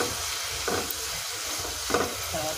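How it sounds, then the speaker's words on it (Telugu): Honey being stirred into fried grated coconut in a pan over a medium flame, with a steady close sizzle and frying hiss and a few scraping strokes of the spoon, no talking. "మీడియం ఫ్లేమ్ పెట్టుకొని తేనె అంతా బాగా కొబ్బరికి పెట్టేలాగా కలుపుకోవాలి."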